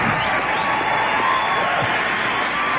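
An evening church fellowship audience applauds and cheers for a pastor, a dense, loud, steady wash of clapping and crowd noise with no break.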